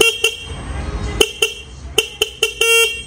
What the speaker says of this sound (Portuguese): A buzina funciona?